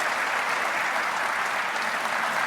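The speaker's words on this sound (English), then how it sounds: "Let's give Philippe a big round of applause." Conference audience applauds a speaker at DEF CON, producing a steady, dense wash of clapping that fills the room without pause.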